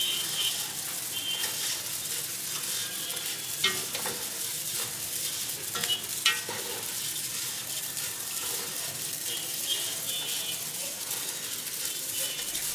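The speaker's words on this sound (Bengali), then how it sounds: "নাড়তে নাড়তে একটা পর্যায়ে দেখবেন চাল থেকে ঠিক এরকম একটা শব্দ হবে।" Rice grains frying in ghee for chicken tehari, stirred steadily in the pan, giving a continuous dry hiss and sizzle with occasional scraping clicks, fairly close and without talk.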